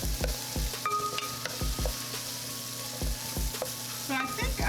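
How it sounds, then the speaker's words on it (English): Fajita meat sautéing in a pan, a continuous close sizzle with repeated rhythmic knocks and scrapes of a utensil against the pan. "while this is sauteing, I'll turn it up a little bit on each."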